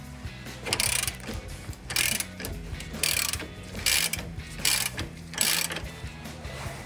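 A ratchet with a 24 mm socket loosens the lower caliper bracket bolt on a 2009-2018 RAM 2500, giving several loud bursts of clicking separated by short pauses, close by with no talk.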